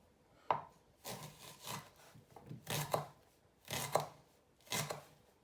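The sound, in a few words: knife slicing fishcakes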